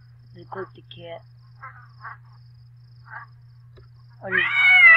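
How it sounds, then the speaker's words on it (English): In a point-and-click video game, a clicked cat gives short chirping meow sounds in a sparse series, ending in a louder drawn-out meow, over a low steady hum. "Oh, they clicked the cat."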